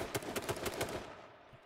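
Rapid gunfire in the battle royale game H1Z1, a burst of about eight sharp shots in quick irregular succession, loud and close, then trailing into quieter ambience.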